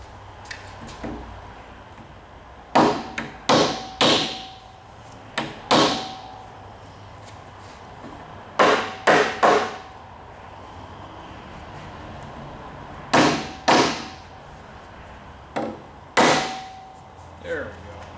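Sharp hammer blows strike parts while an MPCNC table is being assembled, coming in short bursts of two to four hits separated by pauses, loud and close against a quiet room.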